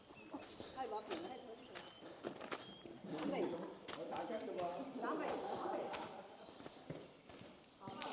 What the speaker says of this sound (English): So we've got plenty of horses in here.